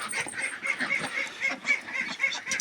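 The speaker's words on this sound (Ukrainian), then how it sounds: "Ось ці чубатих качечки." Young crested ducks quacking and honking in a fast, repeated run of nasal calls, close and fairly loud, with no talk.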